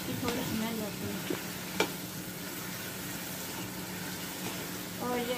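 Chicken pieces and potatoes frying in a home kitchen pan, a soft steady sizzle with occasional scrapes and clinks of stirring, fairly quiet and continuous.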